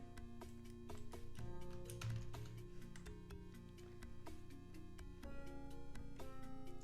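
Computer keyboard typing comes as quick irregular clicks and clacks, close and fairly quiet, with a steady background hum beneath.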